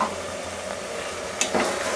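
Veg soya pulao is stirred in a pan, giving a continuous soft scraping and gentle sizzle with a couple of sharper utensil clinks near the end.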